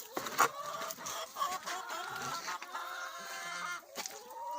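Chickens cluck and chatter continuously in a busy, close chorus inside a village coop without nest boxes, with a few sharper squawks standing out.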